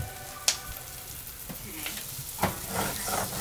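Vegetables sweating down in a pot for acorn squash soup, giving a quiet, low sizzle with a few sharp clinks and stirring scrapes spread across the moment.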